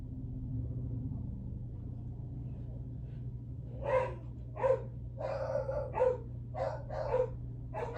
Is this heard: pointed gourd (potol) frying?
no